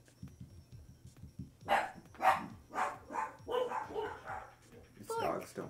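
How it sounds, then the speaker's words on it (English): Dogs barking close and loud, a run of several sharp barks and yips over low background talk during a card game session. "It's dogs, don't worry."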